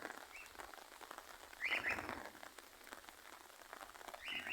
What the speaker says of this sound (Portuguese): Ei, chuvinha boa, gente. Chuvinha mansinha.